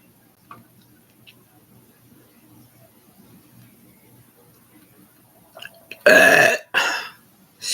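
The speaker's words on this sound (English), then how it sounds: "Excuse me. Sorry, I'm burping." A person lets out two loud, close burps near the end, the first long and throaty and the second shorter, after several seconds of near-silence with faint ticking.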